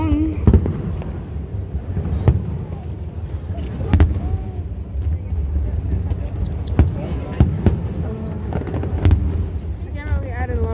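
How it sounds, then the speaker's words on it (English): Fireworks go off outdoors as a string of sharp bangs and crackles at irregular intervals over about ten seconds, moderately loud, with crowd murmur and faint voices underneath. "Just fireworks."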